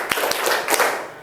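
A few sharp hand claps in quick succession, crisp and fairly close, counted out in a classroom clapping routine, over a busy room background.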